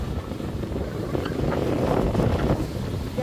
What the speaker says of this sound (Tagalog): Napakahangin.